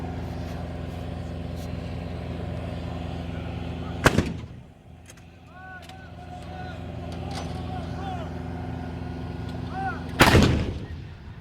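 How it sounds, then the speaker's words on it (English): Artillery guns fire rounds during a live-fire training exercise at Fort Sill. Two loud, booming blasts land about six seconds apart over a steady engine hum, with faint chirping sounds in between. "each gun will fire several additional rounds"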